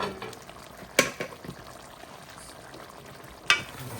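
Jamaican curry cow foot with butter beans simmers in a pot, a soft continuous bubbling and sizzle broken by two sharp clinks, one near the start and one near the end.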